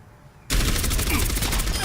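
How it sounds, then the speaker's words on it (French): Orisa's fusion cannon in Overwatch opens up abruptly and keeps firing in a loud, rapid, sustained stream of shots close by. "son arme principale c'est un canon à fusion"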